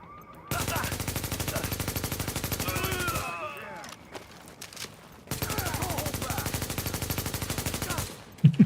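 Two long, rapid automatic bursts of gunfire in The Division, each a loud steady stream of shots lasting a few seconds, separated by a brief pause with scattered clicks and faint background game voices.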